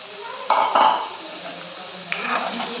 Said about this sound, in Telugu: రొయ్యలు వేసేస్తున్నానండి నేను.